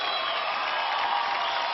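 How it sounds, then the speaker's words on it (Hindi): Studio audience at a TV talent show semifinal applauding the judges, a dense steady wash of clapping with scattered cheers, loud and continuous throughout. "जोरदार तालियां हमारे जबरदस्त जजेस के लिए"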